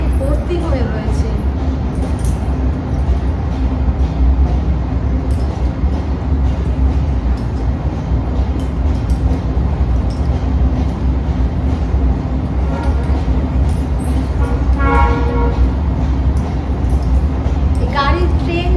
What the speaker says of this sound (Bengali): গাড়ির ট্রেনটা যখন যায় না, এই আওয়াজে আর কোনো মানে কথা বলা যায় না